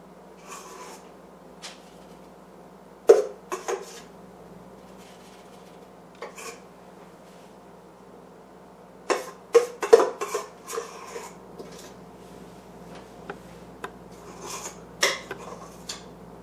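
A spatula scrapes down a mixing bowl of low-carb cinnamon roll batter, with scattered scrapes and knocks against the bowl, a few louder clustered strokes in the middle, close by and without talk.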